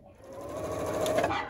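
A sewing machine stitches a quilt block for a schoolgirl sampler, a steady close mechanical whir that swells slightly louder toward the end, with no talking.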